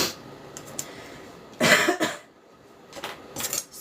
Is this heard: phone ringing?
no